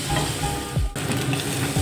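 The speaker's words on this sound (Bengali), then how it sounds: "এবার আলুটা ভাজা ভাজা করতে হবে।" Potatoes frying in a pan with green chillies, a close, steady sizzle with brief stirring scrapes breaking through.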